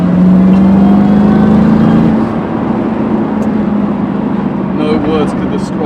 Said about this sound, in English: gonna just play a little bit of a ride I had in a Roush Mustang